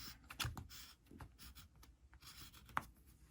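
Marker or chalk drawing a hemline across denim jeans, a few short scratchy strokes with soft taps close by, quiet and alone.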